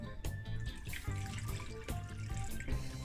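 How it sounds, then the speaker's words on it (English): Water pours and splashes steadily into a pot, a continuous gurgling stream close by, with no voices. "Pour some water in it."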